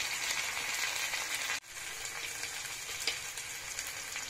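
Onion, garlic, chopped chilli, ginger paste, cumin and coriander powder frying together in a pan for begun bharta, a continuous close sizzle with a brief dip and a faint stir partway.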